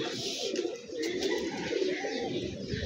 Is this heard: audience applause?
no